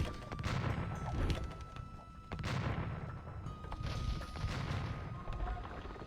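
Cannons in Age of Empires 2 fire a volley at a castle, a series of sharp booming blasts and crashing impacts at irregular intervals over steady battle noise.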